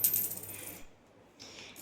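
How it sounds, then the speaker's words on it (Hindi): Coins rattling inside a child's bag as it is picked up: a brief, bright metallic jingle that fades into quiet, then a faint short rustle at the end. "बेचारा अपना सामान उठा रहा है, सिक्के हैं इसमें"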